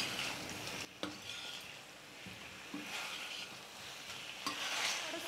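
Green banana being mixed with masala in a pan over a high flame, soft scraping stir strokes and light clatter over a low sizzle, fairly quiet and close with no talking.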